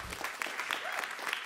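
Concert audience claps for a trumpet player at a jazz gig, a brief burst of busy, overlapping applause from a crowd, steady and fairly close throughout.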